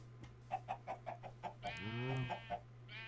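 Chickens in the video game Minecraft cluck in a quick run of about nine short, evenly spaced clucks, broken by a longer squawk, over a steady low background hum.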